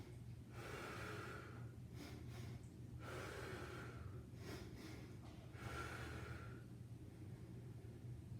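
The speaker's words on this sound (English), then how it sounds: "it's a double inhale and then an exhale" Heavy breathing during 100 lb sandbag lunges, a double inhale then exhale repeated in three cycles, close and steady over a low background hum.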